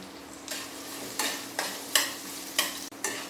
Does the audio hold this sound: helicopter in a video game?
no